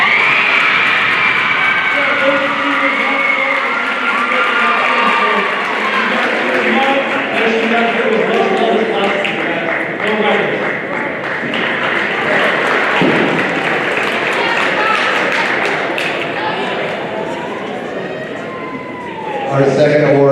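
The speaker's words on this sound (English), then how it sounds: "so she could hear this pumped up crowd these girls can give for her" Crowd of girls cheering loudly for a volleyball player at a high school fall sports celebration, sustained screams and shouting with clapping that thin out toward the end before a final burst.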